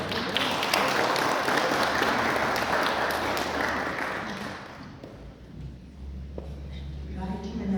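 A hall audience claps for the musical designer at a literary award ceremony: dense, sustained applause that fades out after about five seconds, leaving quiet room tone with a few scattered claps.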